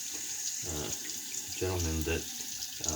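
Tap water runs into a sink to rinse a vintage Mark Cross safety razor, short close bursts of splashing flow starting and stopping a few times, no talking.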